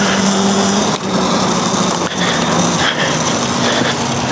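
A HOVERAir X1 Pro drone whines loudly and continuously as it comes in to land close by during e-bike action filming, with a few brief dips in the motor noise.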